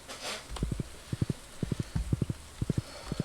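Horse hooves from the video game Stardew Valley clip-clop in quick groups of three, crisp and close, repeating steadily as the horse trots along, with no talk.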